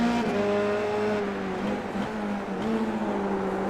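A race car engine drones loudly and steadily as it bounces through a banked corner on a circuit, holding a high pitch with brief dips and recoveries, close by and with no talk over it.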